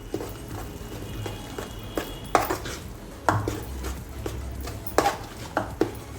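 Chavali dal batter whisked in a bowl, soft repeated knocks and scrapes of the utensil against the bowl in an uneven rhythm, close and moderately loud, with no talking.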